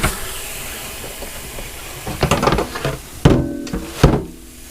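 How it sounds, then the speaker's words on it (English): A loud hiss fills the air, broken by bursts of crackling and a few sharp knocks and clatters, pork sizzling in a hot pressure cooker close by. "We got a sizzle going now."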